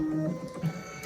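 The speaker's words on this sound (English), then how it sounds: "So I'm going to press the needle threader" A brief mechanical click and whir sounds as the needle threader lever on a Brother V5LE sewing and embroidery machine is pressed, close and quiet.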